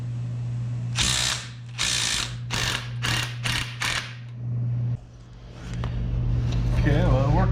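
An impact gun rattles against a ball joint nut on a 2004 Ford Escape, six loud hammering bursts in close succession over a steady hum, then quieter shop noise as a voice starts talking.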